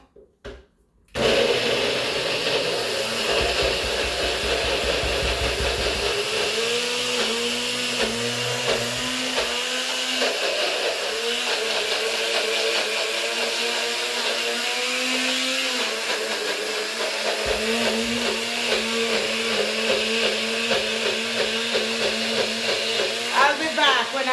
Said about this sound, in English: Yeah, I'm going to blend this up and see how it goes